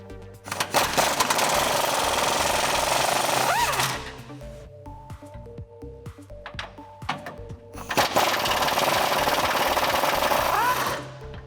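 Power tool, likely an impact wrench, removing a 15mm bolt from the rear bumper of a 2007-2018 Chevrolet Silverado 1500; two loud sustained bursts of whirring, separated by a quieter stretch of clanks and handling noise.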